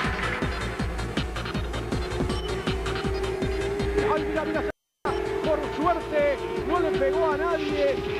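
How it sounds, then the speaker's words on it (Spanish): Turismo Carretera race cars at Paraná roar by in a steady, loud engine drone with rising and falling pitch, joined by tyre squeal toward the end and a brief dropout midway, with a commentator talking over them. "ahí vienen los dos autos"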